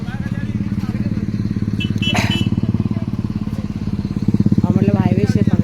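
A motorcycle rides along a highway near local traffic, its engine thrumming loud and close in a continuous pulsing drone, with brief clatter and a voice speaking partway through.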